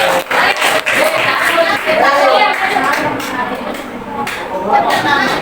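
A group of students claps together in a classroom, a busy patter of hands with voices and chatter mixed in.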